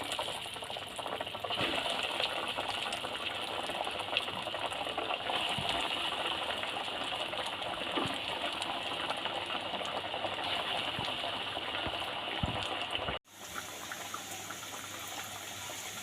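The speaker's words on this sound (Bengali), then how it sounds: "বাকি ভেজিটেবিল কটা আমি তেলের ওপর আস্তে আস্তে দিয়ে ভেজে নেব।" Vegetable cutlets frying in hot oil, a quiet, continuous sizzling hiss with scattered small pops that drops off abruptly near the end and then carries on more faintly.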